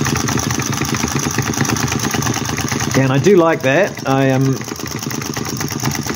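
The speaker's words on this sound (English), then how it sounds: "You don't get many vacuum engines with graphite pistons." A small model vacuum flame-licker engine with graphite pistons runs with a fast, steady mechanical chuffing rhythm, close and continuous, while someone speaks briefly over it.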